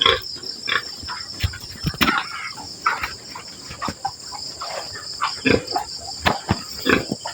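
Pigs and piglets feeding on a farm, irregular close grunts and snorts with scattered squeals over a steady outdoor background of chirping insects, no speech.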